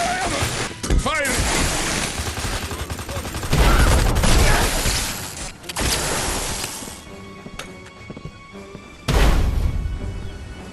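Heavy gunfire in the video game Destroy All Humans 2 Reprobed, dense bursts and rattling volleys with booming hits, loud and near, pausing and resuming in waves while voices shout over the battle.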